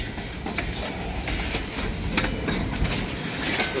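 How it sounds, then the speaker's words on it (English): A long freight train rolls past at Iron Mountain, its wagons and wheels clattering steadily in a rhythmic clickety-clack, close and continuous throughout. "the train goes through Iron Mountain with the entire train, not just locomotives"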